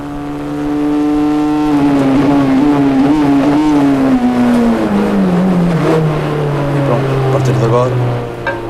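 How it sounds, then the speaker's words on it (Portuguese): A rally car engine fails during a rally stage on Porto Santo, its droning note sagging and falling in pitch as the power dies, heard loud and close under a commentator's voice. "o motor decidiu não colaborar mais."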